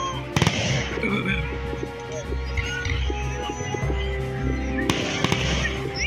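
Fireworks bursting during a 4th of July celebration, with sharp loud bangs near the start and again near the end over a constant low rumble and people talking.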